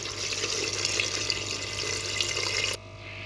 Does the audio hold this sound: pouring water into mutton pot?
yes